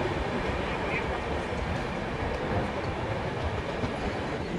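An LHB Garib Rath Express train running into Durgapur station, with a steady, loud rumble of rolling coaches and faint wheel clatter throughout, as heard from on board.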